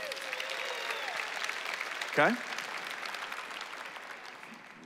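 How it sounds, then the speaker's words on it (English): Audience members at a motivational talk about work clap their hands throughout, a steady, moderately distant patter of many hands, with a brief spoken word and a whistle-like call partway through. "if you love your job, let me hear you clap your hands."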